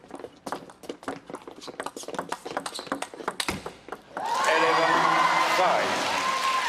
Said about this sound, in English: Maverick Arena applauds